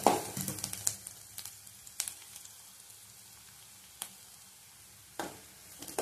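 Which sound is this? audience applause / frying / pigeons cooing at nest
frying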